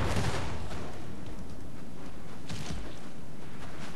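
Massed units firing in a battle in the strategy game Third Age: Total War, a dense, continuous roar of volleys and impacts that stays loud throughout with no voices.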